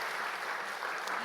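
A church congregation applauds to welcome a student's parents during a Sunday morning worship service, a steady dense wash of clapping that fills the space without pause.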